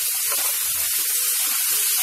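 Chopped tomatoes and green chillies frying in a pan for vegetable Maggi masala noodles, a close, loud, continuous sizzling hiss with faint bubbling underneath.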